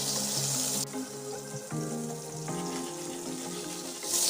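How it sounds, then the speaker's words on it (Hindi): Butter and oil heating in a kadai on a gas stove: a steady close-up sizzle and crackle that carries on throughout, with a few short tonal hums over it and no voices. "अब मैं इसमें देखिए 1 चम्मच बटर डाल रही हूँ और इसी में मैं थोड़े से ऑयल भी डाल देती हूँ।"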